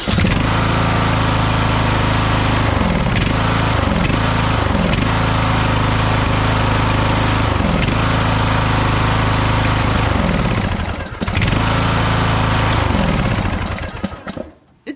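Small lawn tractor engine running loudly up close with a steady mid-pitched drone, its revs dipping and recovering repeatedly, then briefly cutting out before catching again and finally shutting off near the end.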